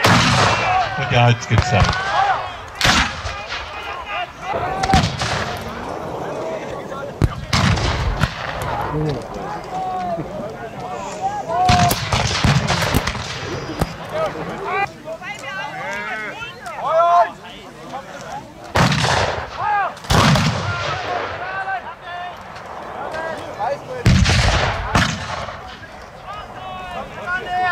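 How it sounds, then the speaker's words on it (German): Mortar and musket fire at a Napoleonic battle reenactment at Napoleonschanze near Hohnstein, heard as several loud, sharp booms spaced irregularly across the scene, with people talking in German throughout. "Der Einzige, der es noch schießen kann, wäre Mörser."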